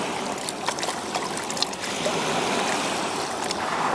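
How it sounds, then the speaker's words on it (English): Gold pan dunked and swished in Lake Superior water at a beach, a steady close wash of splashing and trickling water with brief sloshes, no voices. "I just dunk it, wash it off, and go again."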